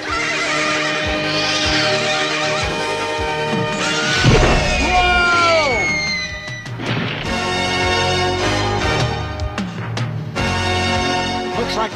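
A horse whinnies loudly amid a busy, dense mix of cartoon music and effects, with crashing thuds and a swooping rise-and-fall squeal in the middle.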